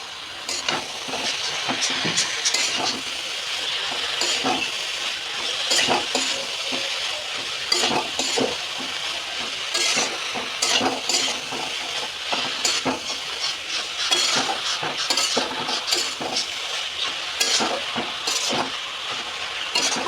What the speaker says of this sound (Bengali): এরকম করে করে একটু ভেজে নেব